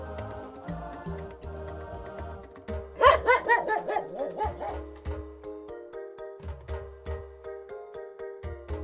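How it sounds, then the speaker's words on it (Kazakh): A dog barks and yips in a quick run of sharp barks, close and fairly loud, with soft music-like tones under it and no talking. "Жарайсың, бұл ит."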